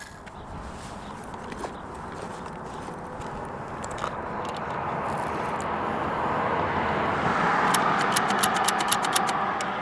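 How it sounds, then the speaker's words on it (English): Road traffic seen from a bridge over railway tracks makes a steady, moderate wash that builds slowly as vehicles pass close by, with a few faint clicks and rattles mixed in. "Sorry about the traffic noise,"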